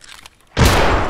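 A video game grenade goes off in one sudden loud blast, with its rumbling roar filling the air and trailing off across the rest of the moment.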